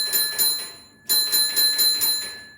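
A railway block signalling bell in an Absolute Block simulator gives bright, metallic, ringing strokes in quick, regular succession. A short burst is followed by a brief gap and a longer run of strokes, close and clear with no talk.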